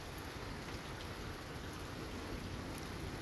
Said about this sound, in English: the rain died down a little bit